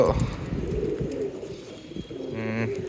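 Pigeons coo softly and repeatedly nearby, low throaty murmurs mixed with fluttering and rustling, then a clearer burst of cooing near the end.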